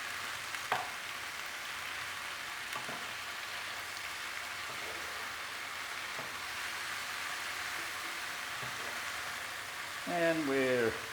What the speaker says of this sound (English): Just going to give this a little stir as it reduces.